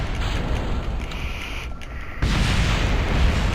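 Bombs dropped from a B-17 bomber explode in Kerbal Space Program: a sustained, loud rumbling barrage that swells into a heavier, denser roar partway through, with no voices.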